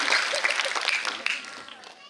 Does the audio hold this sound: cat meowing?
no